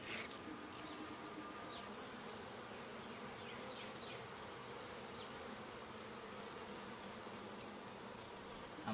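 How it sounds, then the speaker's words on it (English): Honey bees in a horizontal hive keep up a dense, continuous buzzing hum, faint and steady throughout with no voices. "There's a bunch of bees kind of staying together, so it makes me curious."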